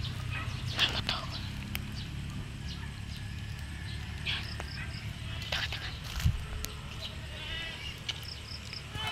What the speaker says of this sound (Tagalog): Ingay ng kambing guys.